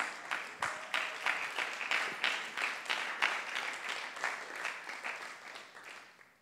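A church congregation applauding during a French-language service, a steady round of clapping from many hands that builds quickly and fades out over several seconds.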